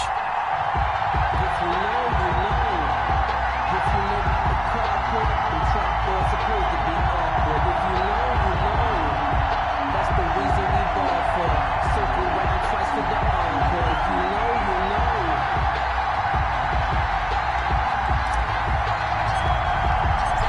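Stadium crowd noise from an EA Sports NFL video game matchup between the Chicago Bears and Carolina Panthers, a steady roar of cheering spectators throughout, with a voice talking over it and occasional sharp thuds.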